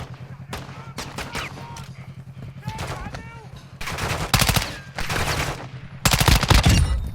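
Call of Duty gunfire crackles in rapid bursts and single shots, growing louder and denser toward the end, with brief voices calling out over the combat.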